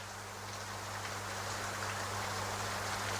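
Steady broadband rain falls continuously, a dense hiss with a low mains-like hum beneath it, even and unbroken throughout with no voices.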